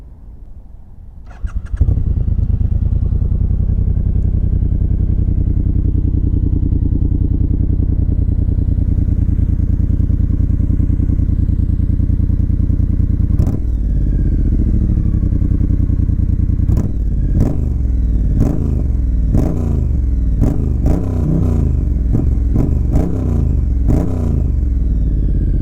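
A Triumph Speed Twin motorcycle starts up and idles with a loud, steady rumble close by, then the throttle is blipped repeatedly in sharp revving bursts toward the end.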